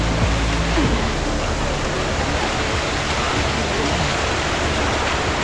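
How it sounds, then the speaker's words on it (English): A waterfall in Catalonia pours in a dense, constant roar of broadband rushing water, loud and close as if standing beneath it, with no voices. "We're under the waterfall."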